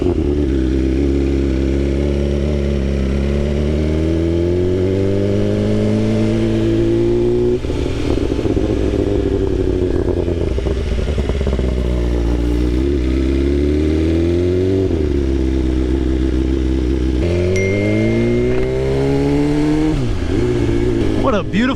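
A 2024 BMW S1000RR motorcycle engine under way, loud and steady with rising and falling pitch as the rider shifts gears and accelerates, wind roaring throughout while he talks over it.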